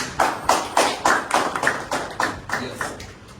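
Audience clapping in a small group, about a dozen evenly spaced, fairly close claps in a steady rhythm that fade slightly toward the end.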